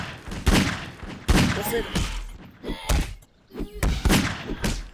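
Gunfire from a possessed gun in Gmod VR, a series of loud, sharp shots that come in uneven bursts with brief gaps between them, close up and mixed with thumping impacts.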